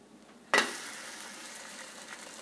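Egg in a basket hitting a hot pan with a sudden loud sizzle after the flip, then settling into a steady, quieter frying hiss.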